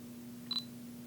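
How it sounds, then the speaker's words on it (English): A Fujifilm S2950 digital camera gives a single brief electronic shutter beep as it takes a picture, quiet and close, over a steady low hum. "I push all the way down and it takes the picture"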